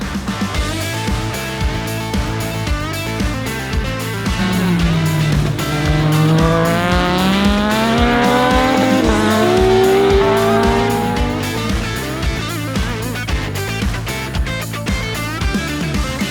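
Race car lapping a track on worn tyres, its loud engine revving and shifting gears while tyre squeal rises and falls in the middle of the run.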